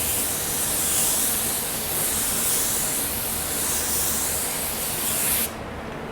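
Continuous loud hiss of a spray gun laying down a coat of pearl paint, with slight swells as the gun sweeps back and forth, stopping abruptly near the end and leaving a quieter background hiss.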